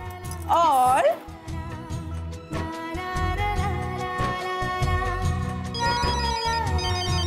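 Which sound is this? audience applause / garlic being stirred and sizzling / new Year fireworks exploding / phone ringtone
phone ringtone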